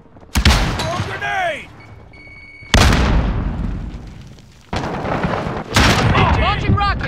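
Grenade blasts in a Call of Duty Modern Warfare 2019 team deathmatch, several loud booming explosions at intervals, each decaying into rumbling debris amid other combat sounds.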